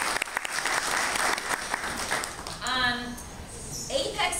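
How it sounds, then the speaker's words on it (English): An audience at a children's theater performance claps in a dense burst of applause, with children's voices and chatter rising near the end. "Let's give them a big round of applause."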